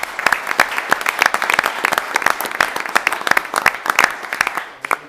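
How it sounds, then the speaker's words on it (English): At a city council meeting a room of people gives a round of applause, many sharp, distinct claps rattling close and loud before they thin out near the end. "So how about another round of applause?"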